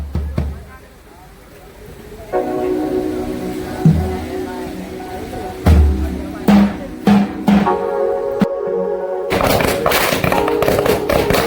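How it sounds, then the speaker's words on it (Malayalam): Firecrackers burst during an Onam celebration at a gym, with sharp thuds and bangs amid crowd noise and people talking, and sustained tonal sound in between. "ഫുള്ള് ചെണ്ടമേലെ വെടി പൊട്ടിക്കലെല്ലാം ഉണ്ട്"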